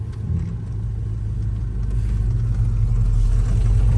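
An El Camino fitted with a Hyper Spark ignition drives along, its engine giving a steady low rumble that slowly swells as it picks up speed, with no talking over it.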